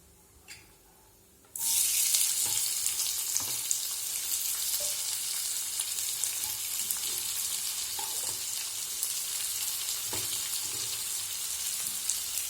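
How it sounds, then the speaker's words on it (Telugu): Chopped onions fry in oil with half a teaspoon of salt for a chicken fry dish. After a brief quiet start, a loud, steady sizzle begins abruptly and continues, with occasional faint clicks of stirring. "ఆనియన్ వేగేదానికి 1/2 స్పూన్ సాల్ట్ వేసానండి. ఆనియన్స్ వేగాయండి."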